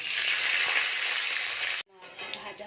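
Green chillies sizzle in hot oil in a pan while a katla fish curry is prepared, a loud, even hiss that cuts off abruptly, then quieter spitting and crackling.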